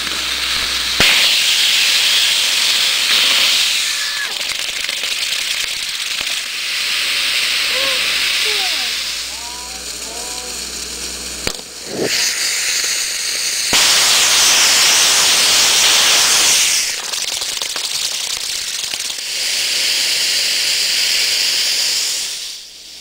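A hybrid rocket motor fires during a static test, a loud sustained roaring hiss with crackling bursts and sputters, briefly interrupted midway before the harsh rushing returns, close and dominant throughout.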